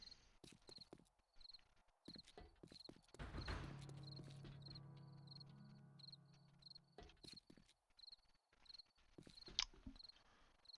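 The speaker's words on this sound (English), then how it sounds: "Should get the crickets chirping in about 3 in-game minutes." Repeated short crickets chirping at night in a survival video game, a steady high pulsing pattern that runs through the whole stretch, with a louder low rumbling burst in the middle and scattered clicks and footsteps.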